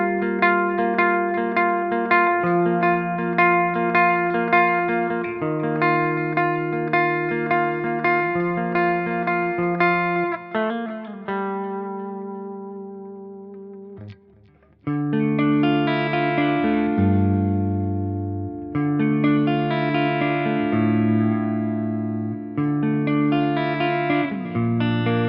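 Electric guitar in a clean tone with little breakup, played through an Axe Fx modeler with a touch of delay, ringing chords and arpeggios that sustain and decay, heard alone with no talk.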